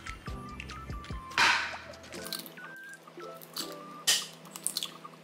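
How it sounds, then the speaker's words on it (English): Eggs cracked into a bowl of green onions, cilantro, carrots and tomatoes, with several sharp taps and wet squishy drips in quick succession, close up and fairly quiet. "Crack six eggs in there."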